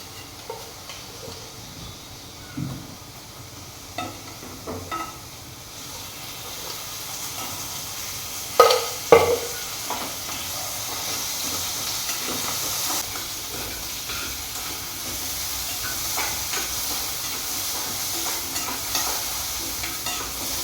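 Sweet potato slices fry in ghee with a soft steady sizzle, broken by occasional scraping stirs and a couple of sharper spatula clacks near the middle; no voices.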